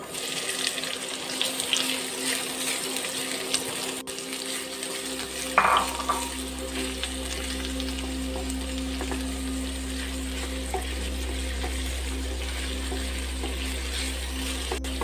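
Sliced onions drop into hot oil for mutton stew and fry with a steady sizzle. A short burst of clatter comes as they land, then a constant low hum continues under the frying.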